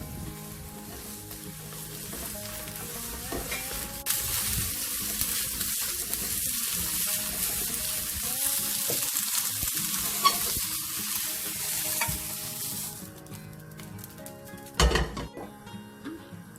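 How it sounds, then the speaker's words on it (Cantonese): Angled luffa and a slice of ginger stir-fry in a wok with a steady, close sizzle, broken by scraping stirs and a few sharp utensil knocks near the end. "我哋俾一塊薑炒一炒呢啲勝瓜先， 唔使炒太耐，炒佢1分鐘得㗎喇。"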